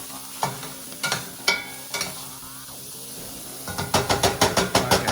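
Onions and chorizo sauté in a pan with a low sizzle, punctuated by scraping stir strokes, then a quicker run of rhythmic stirring clatter near the end.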